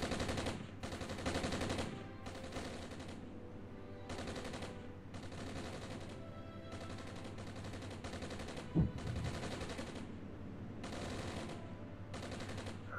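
Sustained machine-gun fire strikes a concrete pillbox in Armored Brigade, a Cold War battlefield, with long bursts broken by brief pauses and one sharp impact midway, heard steadily and fairly loud without talk.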